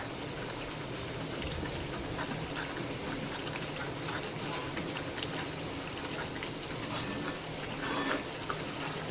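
Masala with peanuts cooks in hot oil for a guar (cluster bean) bhaji, giving a steady, close bubbling sizzle that holds even throughout with no voices.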